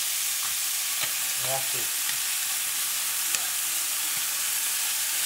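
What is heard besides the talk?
crayfish sizzling as they are flipped while cooking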